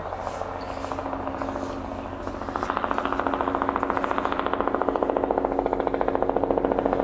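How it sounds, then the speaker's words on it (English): A helicopter flies overhead in Los Angeles, its rotor chop building into a steady, rapid thumping pulse that grows louder partway through and keeps going to the end, with a constant background hum. "That's a helicopter, by the way."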